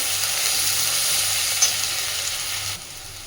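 Onion and garlic fry lightly in a pan for a Bengali masoor dal dish, a steady close sizzle with a small pop near the middle before the sound thins at the end.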